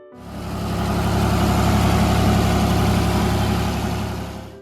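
An Oliver 1650 diesel tractor engine runs steadily at a close idle, giving a loud, even rumble that starts up at once and holds without a break.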